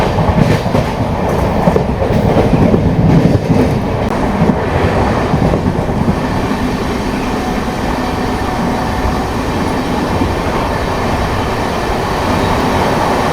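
Tirunelveli–Mangaluru Express running at about 110 km/h, a loud, steady rush of rolling wheels and rattling carriages with constant rumble and wind noise throughout.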